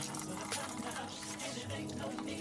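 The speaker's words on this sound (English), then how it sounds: "and then add some water." Water poured from a container into a dish soap and vinegar cleaning mixture for a front-load washing machine, a steady splashing fill that runs throughout at moderate level.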